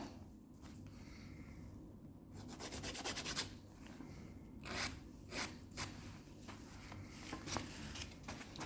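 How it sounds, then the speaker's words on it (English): Steady rasping strokes of a file scraping fibreglass off a nail, repeated in quick back-and-forth bursts, close and fairly quiet. "File your fiberglass off, shape the natural nail."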